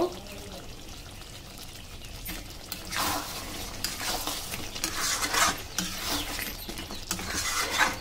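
A spoon works through Pakistani-style chicken masala in a pan, giving steady scraping and wet stirring with a soft sizzle underneath, growing busier and louder toward the end.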